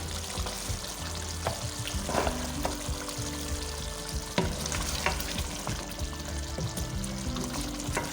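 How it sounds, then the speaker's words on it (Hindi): Koftas fry dry in a hot pan for a kofta curry, giving a steady close sizzle broken by scraping stirs and soft clatter, with no talking. "तो इनको मैं खुश्क करके भूनती हूँ।"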